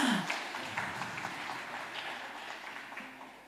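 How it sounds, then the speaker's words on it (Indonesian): Soft applause from a church congregation at an anniversary worship service, a faint, steady patter of clapping that fades slightly toward the end. "Boleh kita kasih tepuk tangan sama-sama?"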